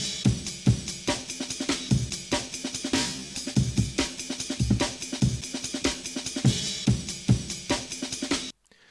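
A chopped drum break loops with punchy, busy kicks and snares under a constant cymbal hiss, and the crash fades toward the end before cutting off abruptly. There are no voices.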